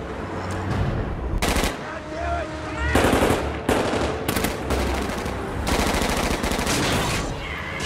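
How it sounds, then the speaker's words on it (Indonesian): A police shootout in a crime film brings loud, close bursts of automatic gunfire and single shots in rapid, uneven volleys over a rumbling soundtrack. "polisi masih bisa mengejar mereka hingga adu tembak pun kembali terjadi"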